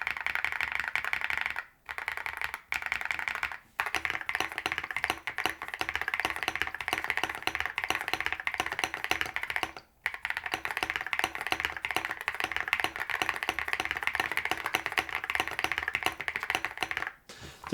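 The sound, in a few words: typing on Yunzii C98 mechanical keyboard, deep thocky sound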